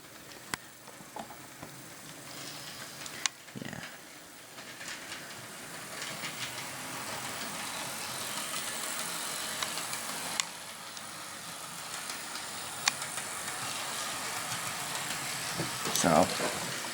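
An Athearn CP AC4400 model locomotive, bought used, runs in reverse at a slow speed step, giving a steady faint mechanical whir and rail hum that holds throughout, with a few small clicks and ticks over quiet room noise.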